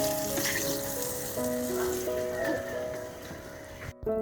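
Oil sizzles and crackles steadily as chicken legs fry, with faint clinks and tonal kitchen hum underneath, cutting off abruptly near the end.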